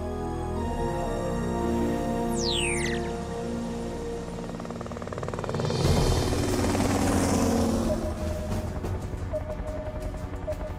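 Helicopter flying in an animated Transformers Rescue Bots episode over a glacier, a loud steady rotor and engine drone with a whooshing sweep partway through and no talking.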